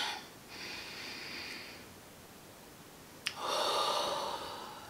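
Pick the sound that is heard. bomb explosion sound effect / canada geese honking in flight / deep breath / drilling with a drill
deep breath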